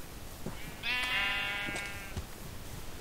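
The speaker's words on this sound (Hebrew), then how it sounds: "כמה כבשים יש ביער" A sheep bleats once in the Minecraft video game, a single drawn-out, wavering bleat of about a second set against quiet ambient game sound.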